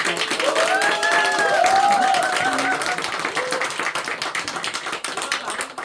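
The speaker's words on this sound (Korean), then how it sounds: "우리 환영의 박수" Church congregation applauding in welcome, sustained crowd clapping throughout with voices talking and calling out over it.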